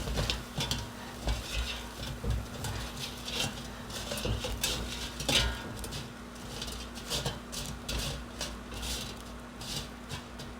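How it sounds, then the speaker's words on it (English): A spatula flips and tosses tater tots in an air fryer basket, producing faint scraping and light clattering taps in an irregular rhythm over a low steady hum. "I'm just going to use my spatula and kindly flip them over and give them a little toss."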